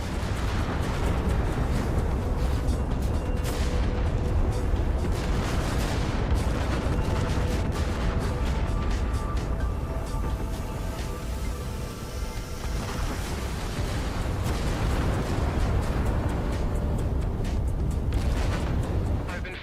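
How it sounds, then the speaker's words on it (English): Explosions and heavy gunfire from the game S.T.A.L.K.E.R. 2 roar continuously, with repeated booms and crackling blasts forming a loud, dense barrage and voices speaking over it. "Vacate this area at once. Explosion imminent."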